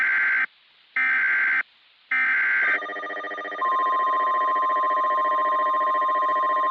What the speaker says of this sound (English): I don't know if I got another notification.